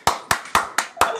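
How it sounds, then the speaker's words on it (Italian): Clapping from a small group in an online talent-style singing contest, five sharp evenly spaced claps in just over a second, close and fairly loud with no voices. "Un applauso al Tucano!"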